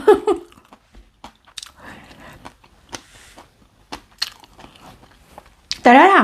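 Crispy pork being bitten and chewed close up, irregular crunchy bites and soft chewing spread over several seconds, with a short loud burst of voice near the end.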